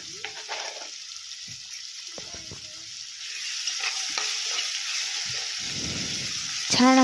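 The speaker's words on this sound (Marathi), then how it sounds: "छान असा कांदा परतून घ्यायचा आहे." Onion and chili sauté in a pan for zunka: a steady sizzle with scraping stirs that grows louder and denser toward the end, close up.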